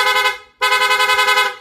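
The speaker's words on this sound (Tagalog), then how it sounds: "Yan po yung loud horn po natin." A PIAA loud horn fitted to a Yamaha Sniper 155 motorcycle blares in two close, loud blasts, a short one followed by a longer pulsing one, with no talk.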